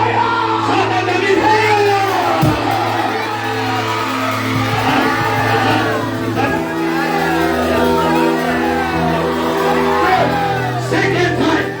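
Congregation at a Good Friday prayer service shouting together, a dense sustained mass of voices with whoops and yells over steady background tones throughout.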